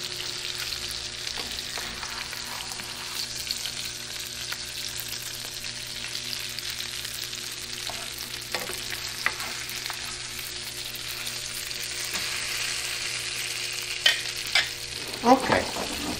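Cod fillet frying in a pan with butter and capers, a steady close sizzle with faint stirring and a few utensil clinks near the end.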